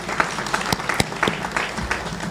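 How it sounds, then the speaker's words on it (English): An audience applauds the chief guest at the Kenya Methodist University 23rd graduation ceremony, with scattered, uneven claps and sharper single smacks over a hall murmur across a couple of seconds. "Please clap for our chief guest"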